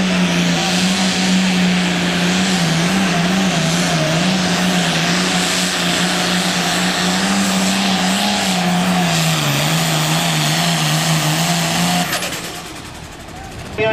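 A stock tractor's engine roars loud and steady during a tractor pull pass at an ITPA event in Springfield, holding a sustained droning pitch with slight wavering before dropping off near the end, with an announcer talking over it.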